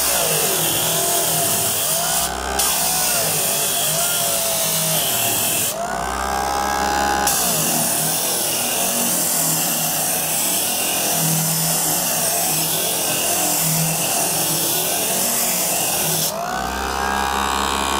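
A disc sander grinds steadily and loudly on plywood throughout, with brief breaks where the pitch shifts as it runs free or bites harder into the wood.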